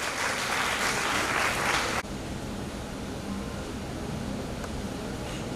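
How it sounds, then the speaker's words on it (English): A large audience applauds at a college convocation ceremony, steady dense clapping that drops to a lower level partway through and continues. "say words of blessings to our dear students in a huge round of applause."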